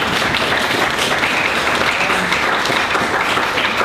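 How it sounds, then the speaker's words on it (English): Steady, loud applause from an audience at a panel discussion on illegal wildlife trade, a dense wash of clapping running evenly throughout with no pauses. "round of applause"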